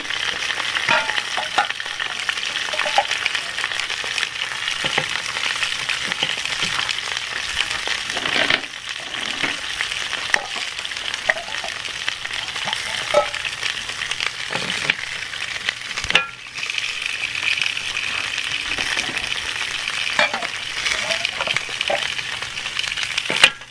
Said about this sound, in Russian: The stones make a hissing sound because I washed them with water.